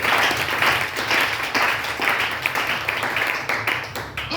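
A church congregation applauds throughout, with steady, dense clapping at a moderate distance that swells and eases in waves, and faint voices underneath.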